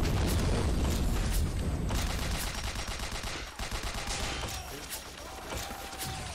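Dense bursts of gunfire and booming grenade explosions fill a combat scene in the video game 50 Cent: Blood on the Sand, loud and continuous, with rapid shots rattling on after the heaviest blasts fade slightly.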